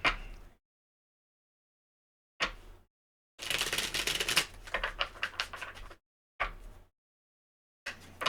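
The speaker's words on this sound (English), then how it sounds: "I'm kind of excited to give it a good shuffle and pull from it." A Dancing in the Dark tarot deck is shuffled in short bursts of papery riffling and card slaps, separated by silent gaps, with one longer flurry in the middle; close and fairly quiet, with no talking.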